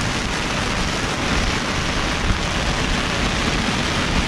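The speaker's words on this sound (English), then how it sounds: "now it's raining all the time" Heavy tropical squall rain at sea on a boat crossing to Inagua pours down in a dense, continuous hiss, loud and close, with no pauses.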